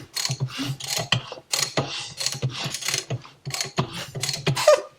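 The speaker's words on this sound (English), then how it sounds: "The first thing you got to do is get your motor cranked around to top dead center." A motor is cranked around by hand with a ratchet toward top dead center, giving repeated close clicking and ratcheting bursts in short strokes with brief pauses between them, no talk.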